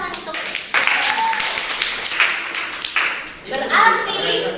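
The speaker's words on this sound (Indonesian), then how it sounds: "Kita beri tepuk tangan untuk." Classroom applause in an Indonesian language lesson, a few seconds of lively clapping from a group of students, uneven and fairly close, with some voices mixed in.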